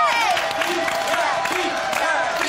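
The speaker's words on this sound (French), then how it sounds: "Applaudissements, s'il vous plaît." A studio audience at a French television variety show cheers and applauds its host, a steady, close wash of clapping and whooping voices that fills the whole moment.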